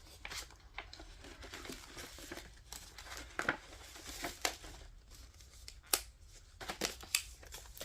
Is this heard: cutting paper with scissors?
yes